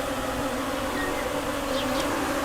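Mosquitoes whine steadily in a forest, a continuous thin insect buzz that hangs close and fairly loud throughout, with no voices over it.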